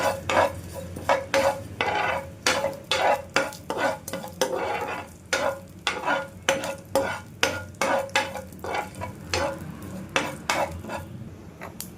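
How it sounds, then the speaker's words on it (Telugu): Cumin and mustard seeds splutter and sizzle in hot oil for a soyabean masala curry tempering, under repeated rhythmic scraping strokes of a spoon against the pan, close and fairly loud. "పోపులోకి మనం కొంచెం జీలకర్ర ఆవాలు వేసుకుని ఒకసారి చిట్పట్లాడేంత వరకు వేయించేసుకుందామండి"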